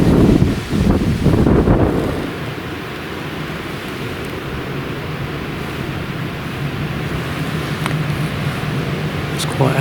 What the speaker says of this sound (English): It's quite a windy evening this evening, so if I get drowned out by the wind at all